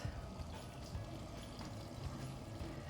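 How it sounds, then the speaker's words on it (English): Hot water being poured off a pot of boiled eggs into a kitchen sink, a steady splashing pour with a gurgling trickle that runs throughout without a break. "now I'm going to drain all the water off my eggs"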